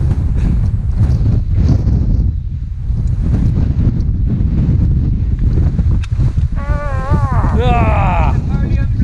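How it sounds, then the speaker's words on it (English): Strong wind buffets a microphone on a high mountain ridge, a loud continuous roar with gusty surges, and someone speaks briefly near the end. "Pinned down by the wind."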